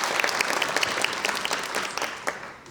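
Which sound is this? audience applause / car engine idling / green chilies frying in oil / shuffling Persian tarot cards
audience applause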